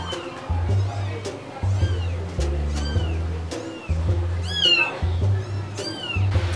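A cat meows several times with rising, drawn-out cries, while a low steady hum and a person's voice continue underneath.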